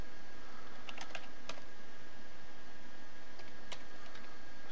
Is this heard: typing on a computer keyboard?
yes